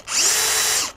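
DeWalt DCD443 stud and joist drill driving a Bosch 7/8-inch auger bit, a single close, steady high-pitched motor whine that ramps up, holds for about a second, then winds down.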